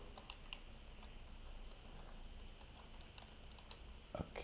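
Someone types on a computer keyboard set to a Swiss layout while coding, producing quiet, irregular clicks and key taps against a faint steady background hum, ending in a slightly louder clack.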